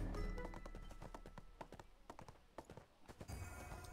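Hooves of an elk mount trotting in the online fantasy game ArcheAge, a steady run of clopping steps over a wash of game music and ambience, moderately loud and without speech.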